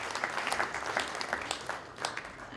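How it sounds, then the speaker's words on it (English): Applause from the audience at a Ward 12 Edmonton city by-election candidates' debate, a modest, fairly quiet patter of clapping from a smallish crowd, with individual claps standing out. "Give yourself a big round of applause,"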